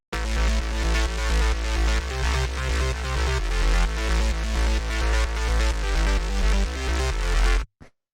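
Three-layer techno bass line with a deep sub layer, a loud continuous driving loop of pulsing low notes and gritty upper harmonics, playing alone for several seconds before stopping abruptly.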